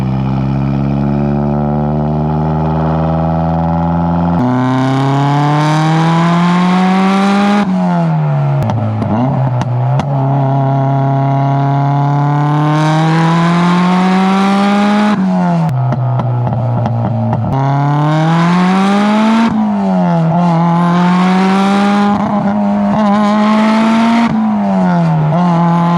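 Mitsubishi Lancer Evo 5 engine accelerating hard while driving, repeated rising revs through the gears with brief drops at each shift, loud and close from inside the car.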